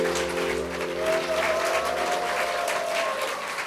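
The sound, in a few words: audience applause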